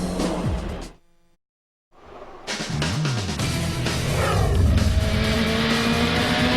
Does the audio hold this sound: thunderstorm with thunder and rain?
no